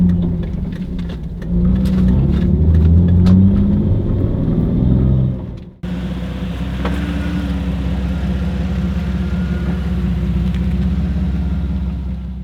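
A vehicle fitted with a newly installed motor mount lift cruises along with a continuous low engine rumble and road whir, shifting to a slightly different steady drone partway through; no one speaks.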